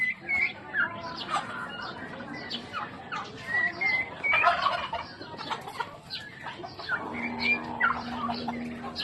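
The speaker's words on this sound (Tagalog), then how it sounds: "Yan po yung mga turkey." Turkeys gobble on a farm, several bursts of gobbling and squawking at mid distance, mixed with other fowl and some faint talk in the background.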